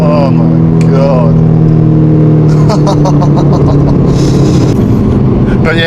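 An Aston Martin Vantage accelerates hard and fishtails, its engine a loud, close, rising roar with shifting tones and bursts of tyre and exhaust noise, while someone talks over it.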